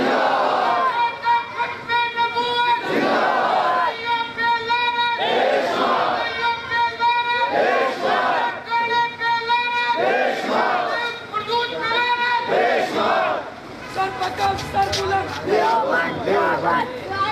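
A large rally crowd at a Khatm-e-Nubuwat conference in Lahore chants slogans in loud, rhythmic bursts of many voices, rising and falling in repeated waves close by.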